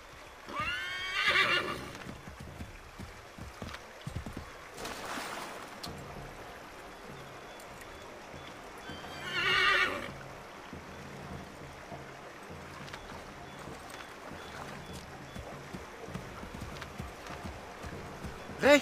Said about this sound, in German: wenn das Pferd nicht einfach über den Fluss geht